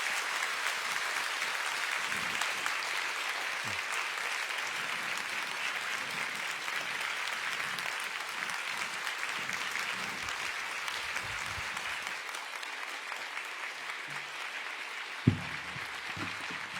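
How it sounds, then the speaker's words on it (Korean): Sustained congregational applause fills a church service as a university president is welcomed to the pulpit, a steady dense patter of many hands held at an even level throughout, with a brief low thump near the end. "박수하겠습니다"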